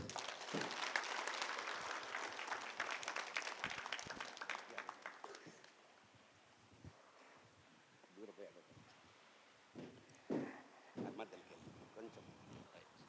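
Audience applause at a Guru Purnima celebration in Kadthal: dense, loud clapping for about five seconds that fades away, followed by a person speaking with scattered noises.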